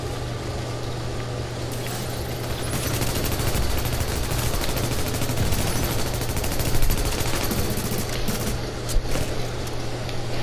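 Sustained gunfire from a Tom Clancy's The Division online match, dense overlapping automatic bursts with a steady low hum underneath and a couple of sharper shots near the end.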